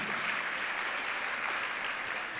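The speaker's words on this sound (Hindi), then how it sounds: "और एक बार अपने लिए तालियां बजा लें" A large audience at a religious discourse gives dense, even applause for a few seconds, a steady wash of many hands clapping at a distance.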